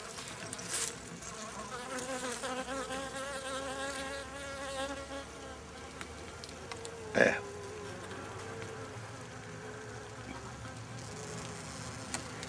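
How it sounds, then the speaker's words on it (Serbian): Honeybees crammed into a bag of sugar syrup buzz in a steady, close, droning hum throughout, with a brief sharp rustle partway through and no speech. "vidite se da se pčelice nabile u ovu kesu."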